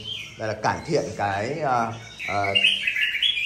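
A pet songbird in a cage chirps and tweets in short high bursts, mostly toward the end, beneath someone talking in Vietnamese.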